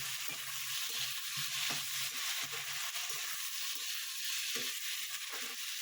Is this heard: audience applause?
no